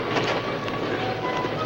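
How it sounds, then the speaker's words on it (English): A train approaches along a trestle near a river, a dense, steady rumble with hissing noise and a faint sustained whistle-like tone, moderately loud. "Sounds like a train now."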